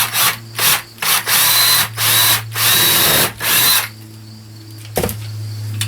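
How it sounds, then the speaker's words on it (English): A power drill runs in repeated bursts, driving 3-inch screws through two layers of wooden furring into a stud behind paneling, with short pauses between each whirring run and a quieter spell toward the end. "Pre-drill, and then putting in 3-inch screws, which goes through both sets of furring and into the stud behind."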